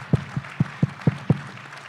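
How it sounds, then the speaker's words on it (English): At a live event in Sedona, a handful of close, evenly spaced claps ring out, six distinct hand strikes in a steady rhythm over a quiet room. "If we can give them a round of applause."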